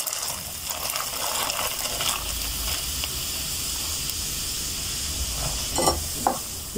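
Carob sizzles in a hot pan and is stirred with a spoon, making a steady close hiss broken by a few scraping knocks near the end.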